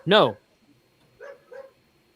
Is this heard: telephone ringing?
no